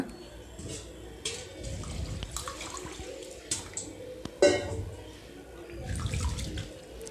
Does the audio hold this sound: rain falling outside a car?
no